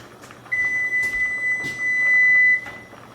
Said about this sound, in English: Okay, there's my timer.